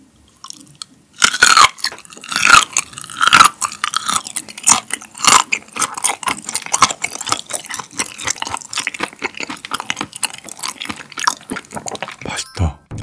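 Close, crunchy chewing of raw gizzard shad sashimi eaten with the bones, full of rapid irregular bites and moist smacking that run continuously for over ten seconds, with no talking.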